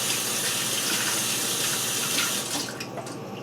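Tap water runs steadily into a sink while fresh strawberries are washed, a continuous close faucet stream that eases slightly near the end, with no talking.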